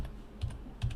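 Password being typed on a computer keyboard during Debian VPN setup: a few quiet, close key clicks in two small clusters over a second, with no talk.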